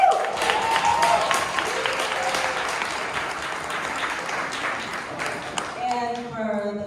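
A demo day audience applauds a team, with a dense wash of clapping that slowly fades and a voice speaking over it, then a brief sustained tone near the end.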